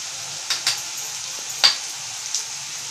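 Onions fry in a pan as turmeric goes in for an Indian chicken gravy, giving a steady close sizzle with a few light clicks and taps from a spoon.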